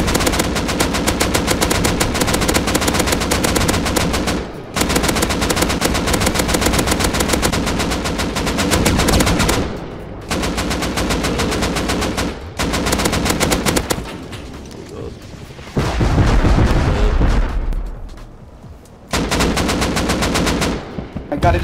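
Sustained bursts of automatic gunfire in the survival game Rust aimed at an attack helicopter, loud and close, in long sprays broken by brief pauses, with a rumbling explosion-like stretch near the end.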